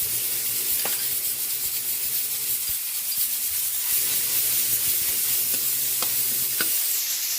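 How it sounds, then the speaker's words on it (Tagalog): Ground pork and tomato fry in a pan with a steady, close sizzle, broken by a few soft scrapes and taps as the mixture is stirred, and no one speaks. "Nilagay na po natin yung ating tomato, kamatis. Sunod na natin yung ating pork giniling."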